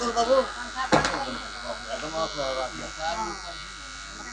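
A ceiling fan runs through a sermon hall, giving a steady electric buzz and hum under continuous speech, with one sharp knock near the start.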